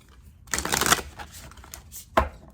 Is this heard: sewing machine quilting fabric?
no